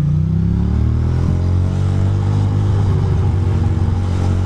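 A car driving the wrong way down a short stretch of a one-way street makes a loud, close, steady engine drone that rises slightly in pitch as it picks up speed.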